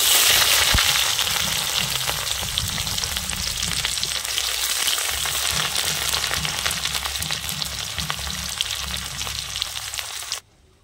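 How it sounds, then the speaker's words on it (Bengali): Chopped onions hit hot oil tempered with panch phoron and sizzle loudly and steadily, a dense broadband crackle that holds for about ten seconds before cutting off abruptly. "এখন এর মধ্যে পেঁয়াজ কুচি দিয়ে দেব।"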